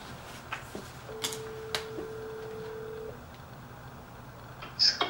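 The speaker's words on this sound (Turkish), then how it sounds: "Şimdi o telefon numarasından kendisini arayıp, diyafonu da açacağım." A phone call placed on speakerphone gives a steady ringback tone of about two seconds, with a few faint clicks around it and a short burst of higher sound at the end, heard alone in a quiet room.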